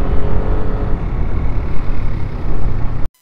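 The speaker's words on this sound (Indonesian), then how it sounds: "sama truk-truk juga banyak yang lewat juga" Dense road traffic of cars and trucks rolls past on a busy highway between Jakarta and Jonggol, a steady loud broadband roar with no gaps, ending in a sudden cut.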